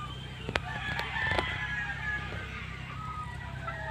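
A rooster crows at a breeding pen, one drawn-out crow rising and falling at moderate distance over a soft outdoor background, with a few sharp knocks early on.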